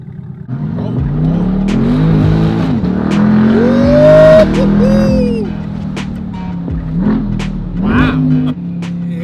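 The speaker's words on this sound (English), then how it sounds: "Listen to that exhaust. It's Borla, custom Borla exhaust." A C8 Corvette with a custom Borla exhaust revs hard and accelerates up close, its throaty exhaust note rising and falling through gear changes, loud and continuous.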